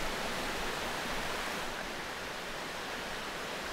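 Brooks and streams rush along a White Mountains trail in New Hampshire, a steady broadband wash of flowing water, moderately faint and unbroken, with no voices.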